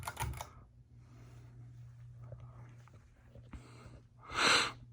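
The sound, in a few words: 52 inch Encon ceiling fan running on low, humming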